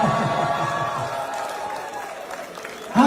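A small crowd at a San Francisco movie screening cheers and claps, a brief scattered burst of whoops and applause that fades out toward the end.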